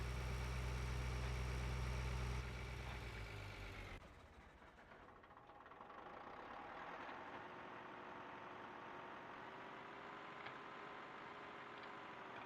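Tractor engine in Farm Simulator 13, a loud steady low rumble that cuts out after about four seconds, leaving a quieter continuous engine drone.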